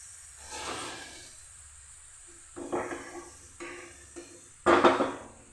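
Water poured into a hot pan of a vegetarian onion-greens and poppy seed dish hisses and steams in several loud, separate bursts, the last the strongest, with quiet gaps between.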